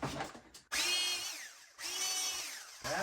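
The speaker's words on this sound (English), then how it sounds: "Get a little speedier drill." A fast power drill whines up in two long bursts, its pitch rising and then sagging under load as it works on an outdoor swing, loud and close with brief pauses between runs.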